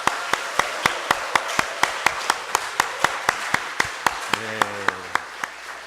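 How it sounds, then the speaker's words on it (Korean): A church congregation at a deacons' training session claps together in a slow, regular, unified beat with sharp evenly spaced claps, while a voice or tone sings briefly underneath near the end. "모두에게 박수로 한번 격려하겠습니다"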